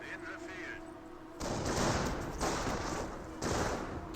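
Sustained bursts of rapid gunfire from Panzer Grenadiers in Company of Heroes 1, loud and close, starting after a quieter opening and swelling in three waves over a steady battlefield din.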